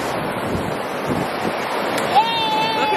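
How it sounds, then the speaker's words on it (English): Heavy ocean waves crash and hiss on a Costa Rica beach, with a steady roar of surf mixed with wind buffeting the microphone, and a brief tonal whistle near the end. "The waves are heavy, man."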